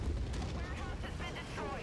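A warehouse blown apart in the MechWarrior 5 video game, a dense rumbling roar of explosion and debris filling the whole moment, with a synthetic voice speaking over it.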